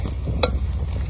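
Crab frying with green chili in a village kitchen, a loud close sizzle with a low rumbling bed and one sharp clack partway through.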